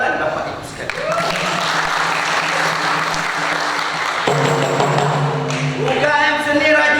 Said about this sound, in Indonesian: Tepuk tangan Bapak Ibu sekalian